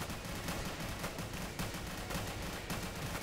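Sniper tower gunfire in the Roblox game Tower Defense Simulator, a steady wash of rapid shots at moderate level with recurring sharper cracks spaced through a dense, noisy backdrop of game sounds.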